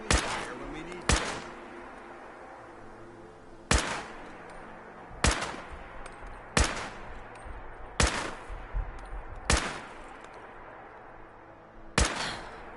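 Single gunshots ring out in Fallout 4, about eight sharp, loud cracks spaced every second or two, each trailing a short echo over a quiet ambient bed.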